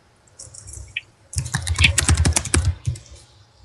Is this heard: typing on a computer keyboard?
yes